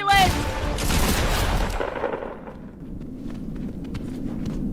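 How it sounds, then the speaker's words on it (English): Burst of gunfire and rapid shots from a TikTok video playing back, loud at the start and then fading into scattered clicks and rustling, with a voice briefly heard. "Why are we shooting him?"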